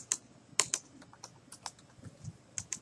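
Rapid clattering keystrokes on a computer keyboard, irregular bursts of sharp clicks with short pauses, close and fairly quiet, no talking.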